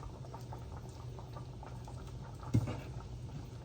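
Ivy gourd and fried eggplant curry bubbles softly in a pan, a faint steady simmer with gentle popping and a low hum, one brief louder knock midway.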